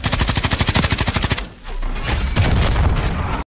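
Fast automatic gunfire from a light machine gun in the video game Call of Duty, a loud rhythmic burst of evenly spaced shots, followed by a rougher rumble of explosions and debris.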